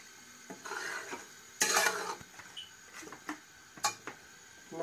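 Ground onion, ginger, garlic and green chillies frying in oil in a pot, bursts of loud sizzling and stirring scrapes with clinks against the pot, close up, without talking.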